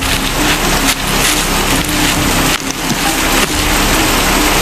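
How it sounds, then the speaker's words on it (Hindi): Steady, dense rain pours down loudly and continuously, a broad hiss with faint dripping and patter, no voices. "बारिश बहुत तेज हो चुकी थी।"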